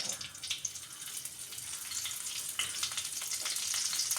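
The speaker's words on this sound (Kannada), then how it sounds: "ಇವಾಗ ಸ್ವಲ್ಪ ಫ್ರೈ ಮಾಡ್ಕೊಳ್ಳೋಣ" Curry leaves and chopped dry red chillies frying in peanut oil give a steady, close hiss of crackling sizzle that runs unbroken throughout, with no talking.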